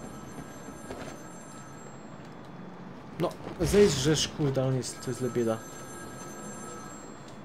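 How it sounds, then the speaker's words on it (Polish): A steady electronic phone ring from the video game Batman: Arkham City pulses in the background, with someone speaking over it in the middle. "To jest telefon dzwoniący, chcę go dobrać."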